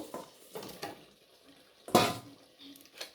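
Potatoes dropped into a pot of chicken curry. A few soft knocks lead to one loud, close clatter against the metal pot, then quieter kitchen noise.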